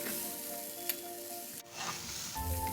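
Rajma sundal, kidney beans tossed with masala in a pan for a Navaratri pooja offering, being stirred: a steady hiss of sizzling with soft scraping of the spoon, a brief click partway, and louder stirring at the end.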